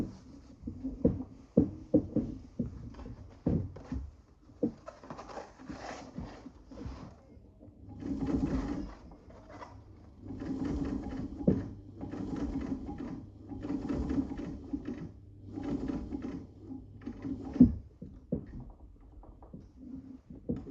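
A Class 15 clone sewing machine modified for heavy marine canvas stitches in repeated bursts, a close mechanical whirring chatter that starts and stops, with clicks and handling noises between runs.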